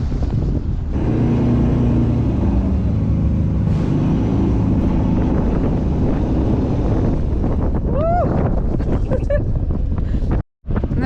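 Off-road vehicle driving up a desert sand dune at Wadi Rum in Jordan, a loud continuous engine roar buffeted by heavy wind noise, with voices and laughter near the end before a brief dropout.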